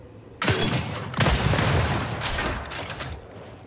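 A Boomer launcher shot explodes in the video game Gears 5, a loud sudden boom followed by a second blast and a long rumbling, crackling tail of debris.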